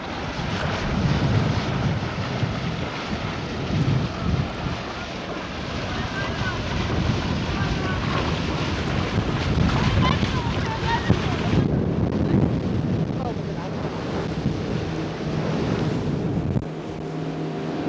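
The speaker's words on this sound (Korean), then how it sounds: "바람이 더 세지네요." Strong wind roars across a microphone on an island off the southern coast, a loud steady buffeting rush with surf-like swells, while people talk faintly underneath.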